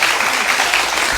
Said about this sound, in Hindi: जोरदार तालियां रानी मुखर्जी जी के लिए